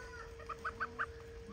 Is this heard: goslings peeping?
yes